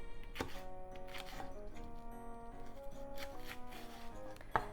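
A knife slices through Japanese leek on a cutting board, making a few distinct chopping strokes with soft taps between them, close and fairly quiet over a steady low background hum.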